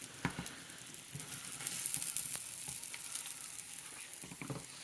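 Canned Spam fries in a pan with a soft continuous sizzle, broken by scattered sharp pops and spatters and a few clanks of the pan.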